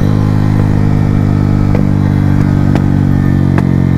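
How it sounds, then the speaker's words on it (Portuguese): A Honda Fan 125 motorcycle with its original CDI runs hard and loud, a steady, buzzing engine drone close to the listener, with a few brief pops and clatters breaking through. "Vamos ver se essa motinha aqui vai dar uns 130 por hora, com o CD original."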